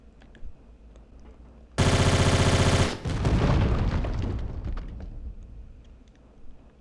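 Rapid machine-gun fire in the Tomb Raider: The Angel of Darkness video game, one loud sustained burst lasting about a second, followed by a crashing rumble as it fades.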